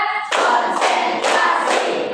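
A classroom group claps in unison during a counting clap game, four sharp, evenly spaced bursts of hand claps, close and loud, with no talking over them.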